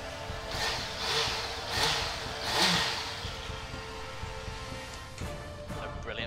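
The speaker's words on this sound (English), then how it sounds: "We'll give it a start for you." A 2016 Honda CB650F motorcycle engine runs at idle with a few gentle revs swelling and fading, a moderate mid-pitched engine hum heard up close with no talking.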